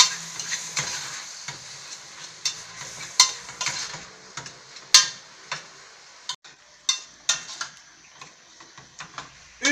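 Bolognese meat for lasagna, seasoned with pepper, stirred in a pan: a soft sizzle under sharp, irregular clicks and scrapes of the utensil against the pan, close and with no talking.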